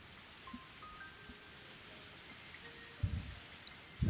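Heavy summer rain in the Higurashi visual novel, a steady soft wash of falling drops with a few louder thuds near the end.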